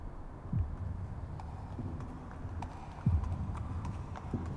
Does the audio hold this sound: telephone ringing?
no